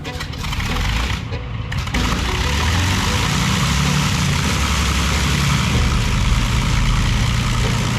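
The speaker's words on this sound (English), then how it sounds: "You are ready for engine start." Avro Lancaster bomber's number 3 engine starting up, its low rumbling drone building after a brief sputter and then holding a steady, loud, throbbing idle.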